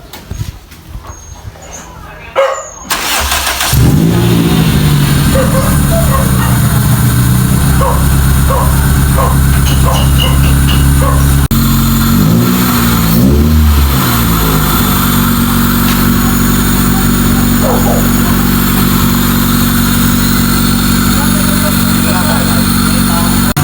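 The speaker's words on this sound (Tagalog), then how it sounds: "So ipapa-start na natin to para matesting natin yung ating cambio kung ayos ba yung tranny" Toyota Corolla 1996 4A-FE engine fitted with a 4A-GE transmission, cranked and caught into a loud steady idle with a few revs, close up and continuing throughout.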